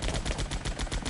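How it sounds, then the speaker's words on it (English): Enemy gunfire in Air Conflicts: Vietnam hammers in a fast automatic rattle, loud and close, steady pulses throughout the short burst. "Enemy fire!"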